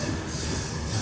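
A train rolls along railroad tracks beneath a bridge, a loud, continuous rumble with grinding wheel noise and faint squeal, steady throughout at close range.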